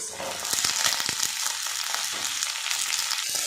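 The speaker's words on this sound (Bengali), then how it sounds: "দুটো কাঁচা লঙ্কা ফাটিয়ে নিয়েছি দিয়ে দেব বিনস" Green beans and split green chillies fry with onion in a pan, a steady bright sizzle with intermittent crackles and pops running continuously from start to finish, close and fairly loud.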